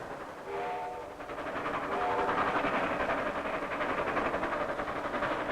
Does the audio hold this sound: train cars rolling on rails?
yes